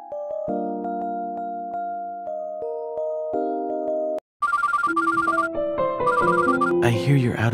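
A melodic phone ringtone plays in the mobile game Mr Love: Queen's Choice, stepped musical tones followed after a short gap by bright trilling ring bursts over a fuller chime melody.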